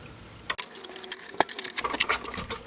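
A hand-cranked die-cutting machine feeding chipboard pieces with gilding flakes through its rollers, giving a steady run of clicking, ratcheting taps and mechanical rattles at close range, with no voices.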